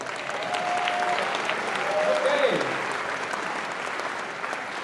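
Audience applause at a spring college convocation for a part-time math faculty member, a sustained even roar of clapping with a brief spoken word and faint voices over it, moderately distant.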